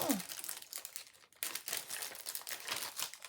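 Crinkling plastic rustles in short bursts throughout, with a brief pause midway, close to the mic.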